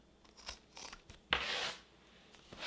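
Scissors snipping into the rounded corners of a sewn fabric tote bag, several short crisp cuts close up with one longer shearing cut in the middle, quiet room with no talking.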